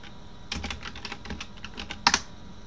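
Close, quick typing on a computer keyboard with a run of light key clicks that ends in a sharper final keystroke or two, and no talking.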